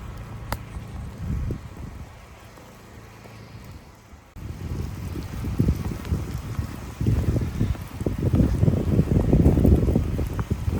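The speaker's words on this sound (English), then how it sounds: "The wind is insane." Strong wind gusting during an April snowstorm at an off-grid cabin, a loud roaring buffet against the microphone that eases for a moment and then builds to heavier, rumbling gusts.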